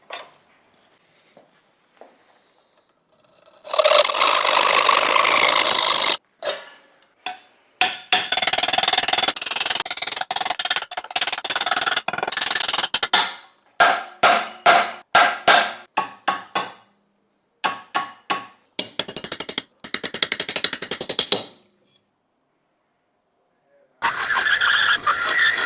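Cutting and bending of a metal mounting bracket for a drive inside a small 13-litre NAS case, with a long harsh grinding burst followed by a run of sharp, uneven metallic hits and scrapes, loud and close.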